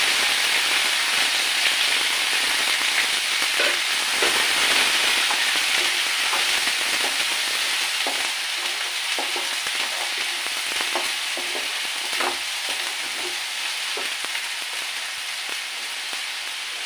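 A paste of ginger, onion and garlic fries in a pan over tempered spices, giving a steady bright sizzle with scattered crackles and pops throughout, fairly loud and close, with no voices.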